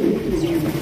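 A male fancy racer pigeon gives a single low, throaty coo close by, a brief rolling call that is clear and alone.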